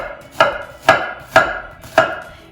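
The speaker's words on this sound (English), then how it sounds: "now we're going to cut it the exact same thickness as you would down here" A knife chops through an onion on a cutting board in four evenly spaced, crisp strokes, close and clear with no talking.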